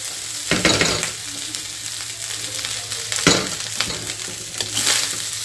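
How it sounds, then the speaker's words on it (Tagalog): Vegetables and rice stirred together in a small frying pan, a loud steady sizzle of frying with a few scraping stirs of the spoon against the pan, close and continuous, no talking. "Haluin na natin siya hanggang sa mahalo ng maigi yung gulay sa kanin."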